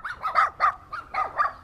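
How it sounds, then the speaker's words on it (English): Small yappy dogs in a Vietnamese village bark in quick sharp yaps, about six bursts in under two seconds, fairly close and clear with no talk over them. "Those two dogs have replaced another two yappy dogs that are not there anymore."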